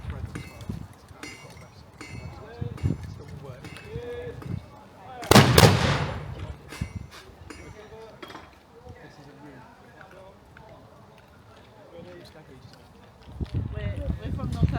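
Muskets and cannon fire at an English Civil War reenactment at a village church farm, with one loud blast standing out over crowd chatter, horses' hooves and a presenter talking.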